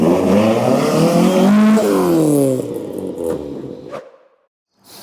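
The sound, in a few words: Ford Focus ST170 with motorbike carburettors revving and accelerating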